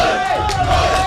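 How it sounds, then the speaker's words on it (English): A crowd cheers and roars continuously at a women's rugby league match between the Tamworth Magpies and Robb College as the players take the field, a brief, loud, steady swell of voices. "As you can hear the cheer"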